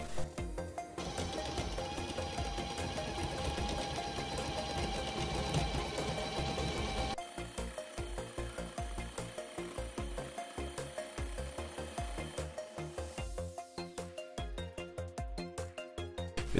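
An automatic coil winding machine winds wire onto a coil, with a continuous mechanical whir and clicking that shifts to a sparser, ticking rhythm partway through. The sound is close and steady, with no talking.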